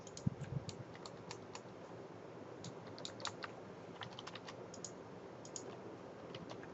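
Fingers tap on a computer keyboard in quiet, irregular bursts of light clicks, close by with pauses between runs of keystrokes.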